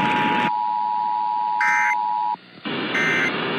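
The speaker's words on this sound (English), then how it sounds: "Follow the alert tones." Loud Emergency Alert System tones: a long steady beep, then harsh buzzing bursts that stop, pause and start again, with no voices.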